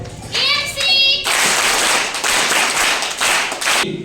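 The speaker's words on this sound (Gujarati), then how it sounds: "એક વખત જોરદાર બંને મિત્રો માટે તાળી પાડો" At a National Science Day school event, students clap loudly in a dense burst of applause that lasts a few seconds, coming right after a brief voice.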